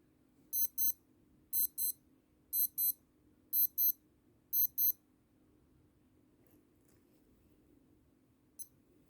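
Five pairs of short, high electronic beeps in a steady rhythm from a Casio F-91W digital watch, then a single faint beep after a pause, over a low background hum.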